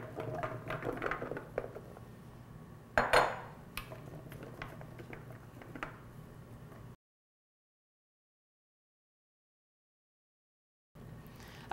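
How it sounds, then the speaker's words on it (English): Root vegetable pieces are spread onto a metal baking sheet, giving close, scattered clicks and clatters with one sharper knock, then a long silent gap before faint noise returns. "Now I'm going to spread these out into one layer on the baking sheet"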